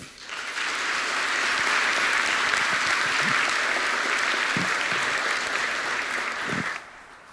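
Sustained applause from a business summit audience welcoming Huntsville's Mayor Tommy Battle to the stage, steady dense clapping filling the room for about six seconds before cutting off.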